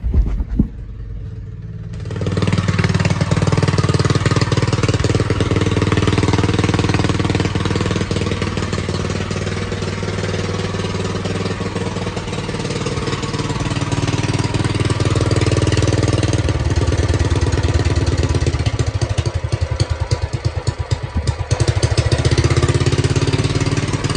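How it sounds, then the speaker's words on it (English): A modified mobility scooter's small engine starts up, then runs steadily loud and rough, with a rattling, jackhammer-like chug that surges slightly toward the end. "Alright, I got the scooter out here running."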